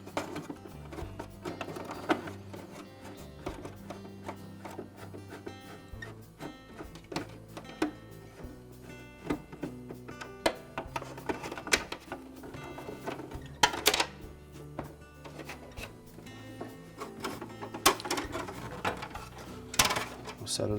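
Screws come out of the ice bucket assembly bracket of a GE refrigerator, making irregular clicks, ratcheting and small metallic clatters close by.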